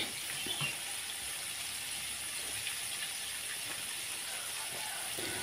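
Food fries in a small amount of oil, two pieces at a time, while breakfast is cooked at home in the morning. A steady, soft sizzling hiss runs throughout, with no talking.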